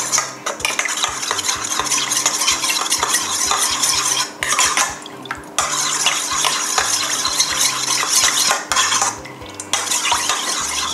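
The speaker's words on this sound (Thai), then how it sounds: "ขอคนให้มันเข้ากันก่อนละกันค่ะ" Tuna salad dressing gets mixed with a utensil in a bowl, a steady run of close clinking and scraping strokes in an even rhythm, briefly pausing twice, with no talking.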